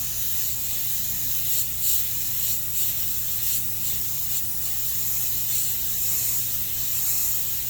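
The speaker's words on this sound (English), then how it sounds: "I'm just spraying with it, so I'm spraying down against it" Airbrush spraying paint down against a template on a Chevelle: a steady, close, airy hiss that runs throughout with small fluctuations and a low background hum.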